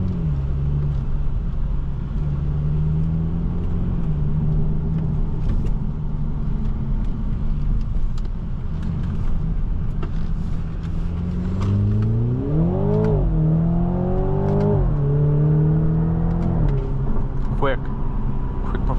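A 2020 BMW Z4 sDrive30i M Sport in sport mode, its engine droning steadily from inside the cabin before pulling through two rising revs, with each climb in pitch followed by a drop at the gear change.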